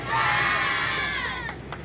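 A crowd of people screams and shouts together at a street cleaning campaign in Malindi town, a loud sustained roar of voices that swells, holds for under two seconds, then trails off slightly.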